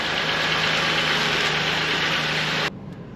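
A car engine runs steadily and loud after a ball joint replacement, a close continuous idle hum with no voices, then drops abruptly near the end to a quieter level.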